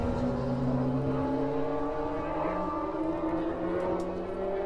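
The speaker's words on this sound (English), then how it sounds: "As we see the cars there filing through the Crosby chicane, taking it gingerly." Formula BOSS race cars file through the Crosby chicane at Kirkistown during a rain-dampened qualifying session, a continuous loud mix of several engines droning and humming together, with steady tones rising and falling slightly as the cars pass.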